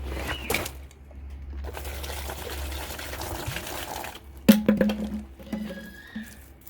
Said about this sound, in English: I'm going to pour water directly into the pack this time